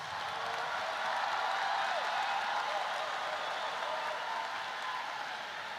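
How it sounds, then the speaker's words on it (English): Sustained, dense applause from a large graduation audience at Summerville's 2024 ceremony, honoring the honor graduates, holding a steady, even roar of many hands throughout. "Please give a round of applause for our honor graduates."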